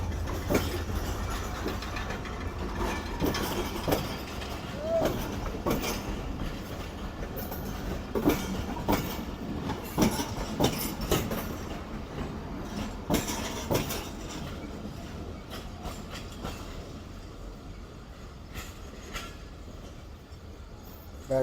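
Passenger train on the Mirpurkhas to Karachi line heading toward Karachi City, a continuous rolling rumble with rhythmic wheel clatter over rail joints, steady and moderately loud, with no talking.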